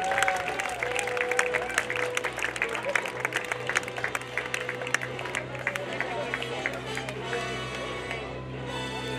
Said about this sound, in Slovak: Takže ešte jeden veľký potlesk pre všetky týmy a pre víťazný tým.